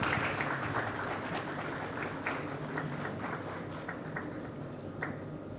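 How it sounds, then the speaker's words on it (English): A conference audience at a keynote applauds steadily throughout, a dense patter of many hands clapping at a moderate distance with no voices over it. "A round of applause,"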